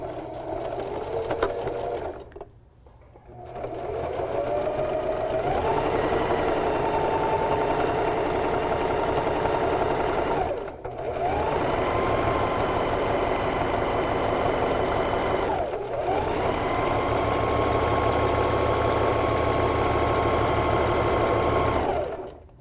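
A sewing machine stitches a narrow zigzag or stretch stitch along the side seam of an upcycled tee, a loud steady motor whir running in long bursts with two brief pauses, close up.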